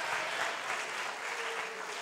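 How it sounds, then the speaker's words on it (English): An audience applauds the facilitators at a gathering, steady sustained clapping from many hands, close and even throughout. "You should clap for all the facilitators."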